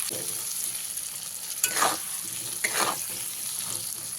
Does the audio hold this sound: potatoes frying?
yes